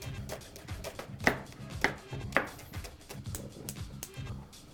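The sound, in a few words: knife chopping onion into julienne strips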